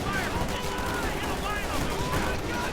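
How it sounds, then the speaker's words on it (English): A rifle grenade fires in a World War II strategy game amid a dense, continuous din of battle gunfire, steady and loud throughout, with a commentator's voice partly under it. "Rifle grenade is off target."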